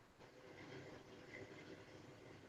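A freight train passes at night in Fargo, a steady broadband rumble of rolling wagons heard from some distance, continuous and fairly even with faint clanking, no voices.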